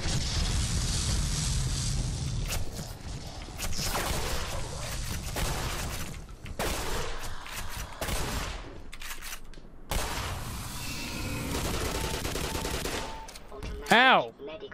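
Gunfire from a double-barrel shotgun in the Black Mesa video game, with loud repeated blasts and impacts over a dense, busy game soundscape and a brief spoken exclamation at the end.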